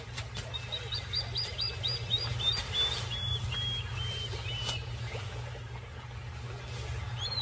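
A plover gives a rapid series of sharp, high chirping calls, then several scattered single notes, over a steady low outdoor hum.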